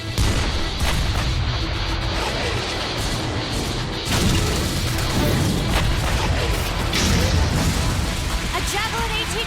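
A Javelin anti-tank missile explodes in an animated action scene: heavy, booming blasts and crashing debris rumble loudly and continuously, with voices heard among the noise.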